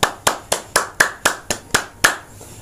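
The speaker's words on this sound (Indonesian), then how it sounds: "Tepuk tangan." Hand clapping on a mystic's talk show, nine sharp, evenly spaced claps at a brisk steady rhythm, close and crisp with nothing else in the background.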